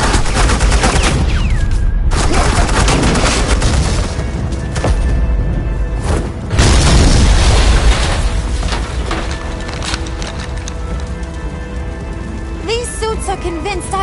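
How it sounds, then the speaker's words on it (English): Suppressing gunfire and booming explosions from the video game Batman: The Enemy Within, a dense, loud barrage running throughout with rumbling blasts, mixed under speech and game sound. "suppressing fire"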